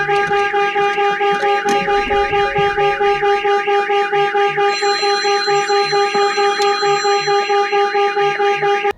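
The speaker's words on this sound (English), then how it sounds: "eventually the vehicle is going to shut down and the alarm system is going to sound" A Starline S Series car alarm blares loud and close in a steady, fast repeating warble with shrill tones, holding for the whole stretch without letting up.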